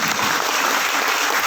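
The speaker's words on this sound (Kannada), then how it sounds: "ಬರಲಿ ಚಪ್ಪಾಳೆ" Dense, steady applause from an audience at a live comedy program in Bangalore, loud and continuous throughout without a break.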